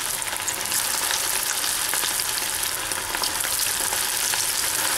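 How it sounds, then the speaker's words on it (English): Steady, close sizzling and crackling of potato cutlets frying in hot oil, a dense continuous hiss with small pops throughout. "so we can add another cutlet to it for frying"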